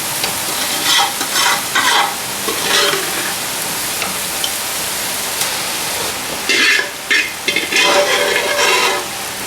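Dal tipped into bitter gourd frying in a pan and stirred, with sizzling under repeated scraping strokes of a spoon, close and fairly loud.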